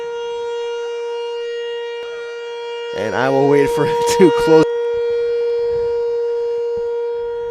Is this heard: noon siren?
yes